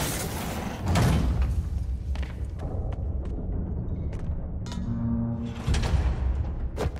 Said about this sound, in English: Trap door.